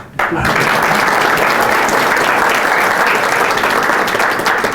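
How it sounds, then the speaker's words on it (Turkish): Sustained audience applause from a large crowd at a Turkish stage event, dense and steady after a brief quiet start, filling the whole stretch at a loud, even level. "Alkış."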